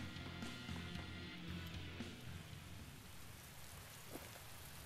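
Steady in-game rain from Tales of Berseria, a dense continuous hiss on surfaces with a low rumble underneath, even in loudness throughout and no talk.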